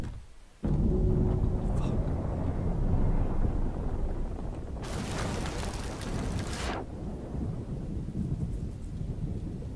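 Two explosions go off back to back in a pirate naval battle game, a loud booming blast followed by a second burst of crackling debris, with rumbling noise throughout.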